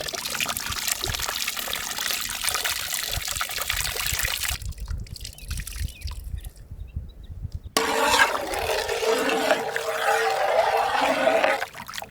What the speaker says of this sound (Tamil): புளி கரைச்சலில் கொஞ்சம் தேங்காய் பால் சேர்த்து கொடுமுக்கா